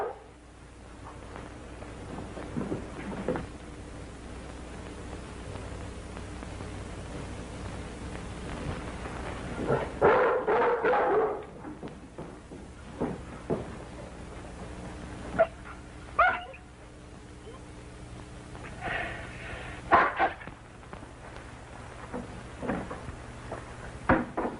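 A dog barks in short, scattered bursts, fairly close, over a steady bed of rain-like hiss and low rumbling that swells into thunder-like crashes.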